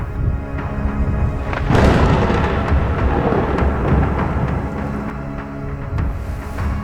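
Thunderstorm with heavy rain and wind near Phuket during an airliner's approach, a sudden loud thunder crack followed by a continuous roar of rain and rumbling, with no voices.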